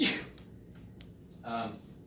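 A single sneeze bursts out at the start in a lecture room, short and fairly close, followed by a murmured voice and quiet room tone.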